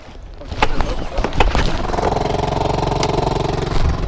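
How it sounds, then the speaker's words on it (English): A couple of sharp pulls on a starter cord, then a small boat outboard motor catches and settles into a loud, steady, throbbing idle close by. "Was that a one pull start that I just heard?"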